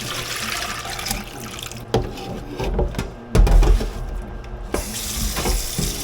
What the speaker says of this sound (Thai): ล้างสองน้ำไปเลยล้างสองน้ำซะเลย